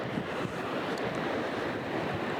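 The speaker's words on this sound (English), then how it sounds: "Notice how white the ocean is from hitting all the rocks down here." Ocean waves churn white against rocks during a very high king tide, heard as a constant loud roar of surf mixed with wind buffeting the microphone.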